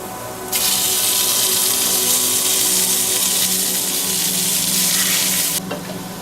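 A pound and a half of hamburger meat browns in a pan with onions and garlic, giving a loud, dense, continuous sizzle that starts and stops abruptly, heard close with no talking.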